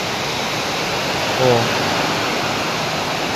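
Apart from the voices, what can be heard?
rain falling in bursts on a roof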